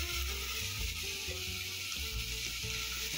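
Dhaniya chicken frying in a pan gives a steady close-up sizzle with low bubbling underneath, continuous and fairly quiet with no talking.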